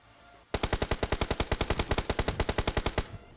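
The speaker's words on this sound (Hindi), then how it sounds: "तो मैंने इसको एक फायर करा" Rapid automatic gunfire in the BGMI mobile battle royale game, a single sustained burst of about twenty-five evenly spaced shots lasting roughly two and a half seconds, loud and close with no talk over it.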